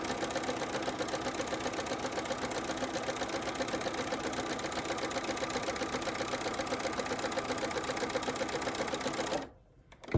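A sewing machine chain-quilting tote bag pieces, running in one continuous fast rattling stitch for several seconds before stopping abruptly.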